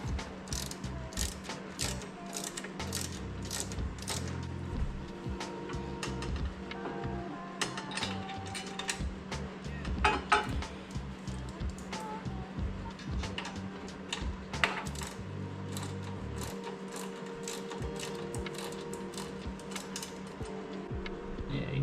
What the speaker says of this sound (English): Just going to pre-lock tight all the bolts.